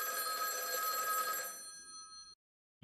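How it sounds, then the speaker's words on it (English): A telephone bell rings loud and bright, a sustained metallic trill that fades out after about two seconds and leaves silence. "Does that mean I should ignore this phone call?"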